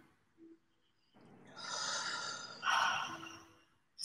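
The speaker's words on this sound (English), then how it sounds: "we're just going to breathe" Soft, close breaths during a guided meditation: a quiet short intake, then a longer slow inhale and exhale, with a faint rustle in the otherwise still room.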